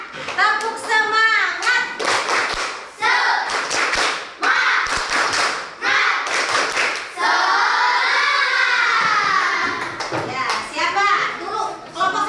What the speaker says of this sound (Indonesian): Tepuk semangat dulu tuh